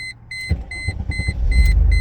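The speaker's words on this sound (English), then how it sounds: "start the car, if we can, there we go" A Chrysler Crossfire's engine cranks and catches after a new key is programmed: a string of steady dashboard chime beeps, then a low rumble that swells as the motor starts and settles into a close, steady idle.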